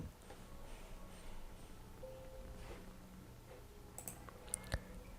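A computer mouse gives a few faint, sharp clicks near the end, isolated against a quiet room hum.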